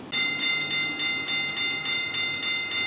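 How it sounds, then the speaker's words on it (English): Train wagons roll through a street intersection on Hendricks Avenue, their wheels clicking in a steady rhythmic clatter over the crossing, close and continuous with a high ringing tone above, no talk. "As the wheels of this train roll right through this intersection on Hendricks Avenue"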